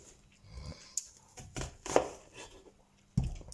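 An onion sliced with a knife on a board, making a few quiet, irregular close taps and cuts, then a firmer knock near the end.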